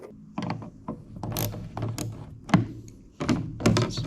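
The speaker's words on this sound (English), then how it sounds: "So we'll go ahead and remove our 13 millimeter bolt." A ratchet wrench loosens a 13 mm bolt on the headlight mount of a Mule 550 utility vehicle, giving close metallic clicks, clunks and bursts of ratcheting in an uneven rhythm.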